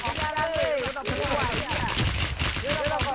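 Rapid bursts of automatic gunfire in the shooter game Warz, sharp repeated cracks in quick succession, loud and close, with a voice briefly heard in the mix.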